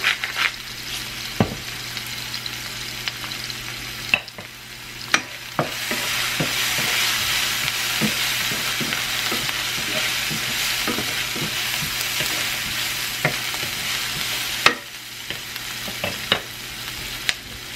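Ground beef sizzles steadily in a hot pan, a bright continuous hiss broken by repeated sharp scrapes and taps of a spoon stirring, close and loud with no talking.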